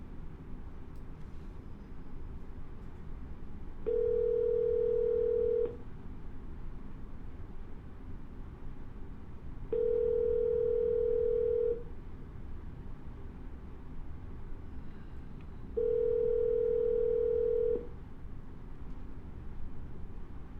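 A phone line rings out three times in steady, evenly spaced two-second tones over a faint background hiss, with no one answering.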